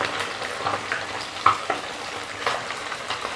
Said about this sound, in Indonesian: Jadi kalau menggoreng lele aku cukup satu kali balik saja.